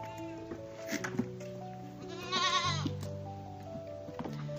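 Several goats bleat at close range in a farm setting, with wavering cries overlapping one another against faint background noise.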